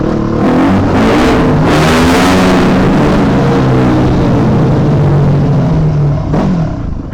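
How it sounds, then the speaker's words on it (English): Four-stroke dirt bike engine revving on a street, a loud, continuous motor roar with rising and falling pitch that holds steady throughout before easing near the end. "You guys ready for the beautiful sound of a four-stroke again?"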